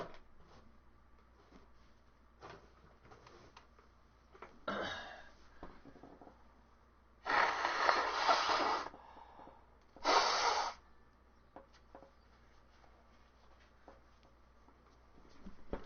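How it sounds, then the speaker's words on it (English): Quiet room, then a short nose blow followed by two louder, longer blasts of blowing into a tissue, close up. "I need to blow my nose real quick."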